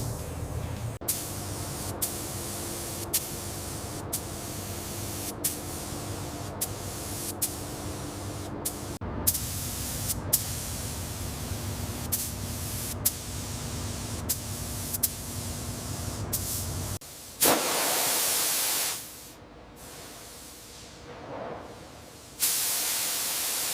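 A spray gun lays base coat onto a 1969 Mustang's quarter panel, giving a steady, loud hiss broken by brief regular pauses, then cutting to sharper bursts near the end.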